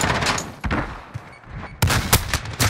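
Bursts of automatic gunfire rattle in Modern Warfare during a competitive esports match, sharp rapid volleys separated by brief pauses, loud and close with no talk over them.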